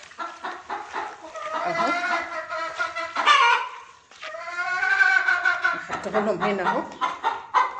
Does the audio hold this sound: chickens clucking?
yes